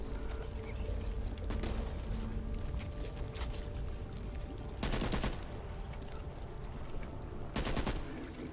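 Gunfire in the video game Back 4 Blood comes as two loud, dense bursts of rapid automatic shots over a steady layer of in-game ambience, with sparse single shots between them.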